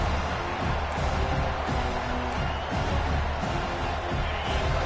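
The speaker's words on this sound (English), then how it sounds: "Listen to this crowd just shaking the girders of this place trying to help their defense." A football stadium crowd at a Tennessee vs Georgia game roars in a dense, sustained wall of noise.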